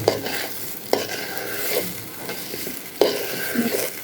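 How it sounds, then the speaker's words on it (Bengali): Turmeric being stirred and fried for khichuri, a pan sizzling steadily while a spoon scrapes and clacks against it in a few sharp strokes, close and with no speech. "যে কোনো খিচুড়িতে হলুদ যদি এইভাবে দিয়ে একটু ভাজা যায়"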